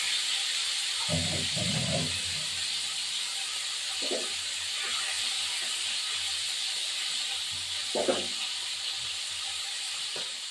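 A steady, bright hiss of rohu fish pieces frying in hot oil runs throughout, with a few brief low clatters and knocks.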